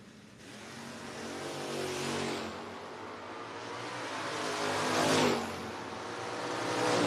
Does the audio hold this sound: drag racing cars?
yes